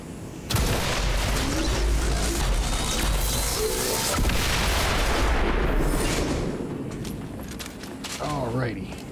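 Weapon fire in the XCOM Chimera Squad video game booms into a long, dense roar of blasts and crashes. It fades toward the end, and a voice speaks briefly near the close.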